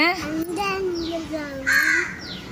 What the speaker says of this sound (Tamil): காக்கா வந்துச்சு, இங்க பாருங்க, இங்க பாரு.